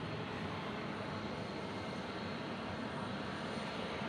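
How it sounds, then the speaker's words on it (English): Old Airbus jet engines roar steadily at an airport, a loud continuous broadband rumble and whoosh with no break, heard close and alone without talk. "listen to those old Airbus engines"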